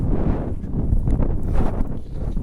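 Strong gusty wind blowing across open farmland on a dusty day, a loud continuous low rumble buffeting close to the microphone.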